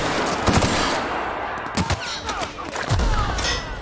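Gunfire in The Outer Worlds: several sharp shots close by, coming in irregular bursts against a busy, noisy background of combat.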